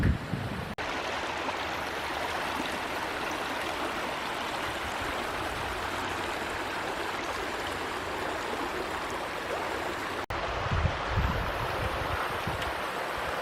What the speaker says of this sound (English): Hopefully you can hear me over the babbling brook.